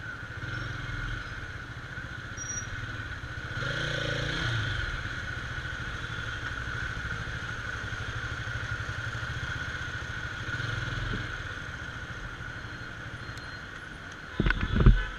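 A Suzuki Hayabusa motorcycle idles at a city traffic signal in Bangalore, a steady low engine rumble with slight swells, ending in a brief louder burst.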